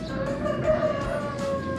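A rooster crows among clucking hens on a free-range egg farm with spacious sheds, the call drawn out and fairly distant over a steady background murmur.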